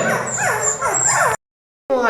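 A newborn puppy, born to a Pomeranian mother that crossed with a street dog, gives high, thin whimpering cries close by. The cries break off briefly and then resume.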